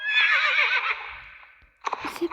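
A horse gives a loud, drawn-out whinny lasting over a second during a riding session, fading off, followed by a few brief shuffling noises and faint movement sounds.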